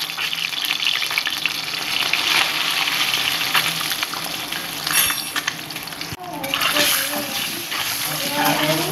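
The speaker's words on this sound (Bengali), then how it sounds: "ডিমগুলো হালকা করে ভেজে নেব।" Eggs frying in a pan with a little turmeric, a steady loud sizzle with occasional stirring and scraping near the pan.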